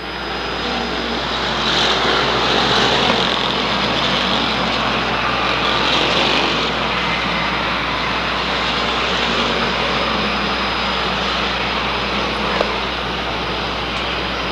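Limited Sportsman race cars circle an oval speedway, their engines blending into a continuous loud droning roar that swells slightly and never lets up, heard without any voice.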